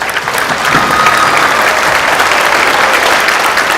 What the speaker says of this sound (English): give another round of applause for our 3 guest speakers